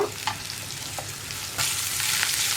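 Onions frying with salt and curry leaves in a pan sizzle under repeated stirring, the hiss swelling louder partway through as the pan is worked, close and continuous with no talking.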